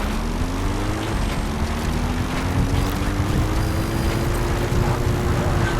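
A support helicopter arrives in Metal Gear Solid V: The Phantom Pain, its steady rotor and engine drone rising slowly in pitch and holding loud and continuous throughout, with no voices.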